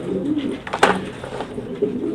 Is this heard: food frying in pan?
no